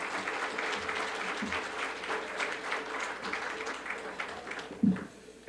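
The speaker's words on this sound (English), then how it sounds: "Let's applaud one more time for them" Audience applause at an annual business awards ceremony in a banquet hall, a dense, even patter of many people clapping that holds steady and tapers near the end.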